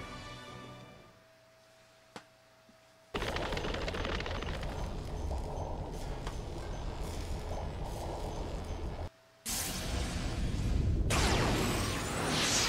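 A loud explosion effect from the Romancing SaGa Re;univerSe mobile game bursts in after a quiet lead-in, roaring for several seconds, breaking off briefly, then returning as a bright, crackling blast.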